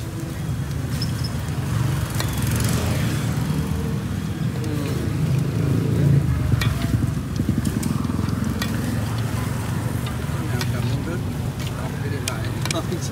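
Taro yam frying in hot oil at an outdoor street stall beside a church, a dense continuous sizzle with stirring clatter, under steady traffic noise and nearby voices.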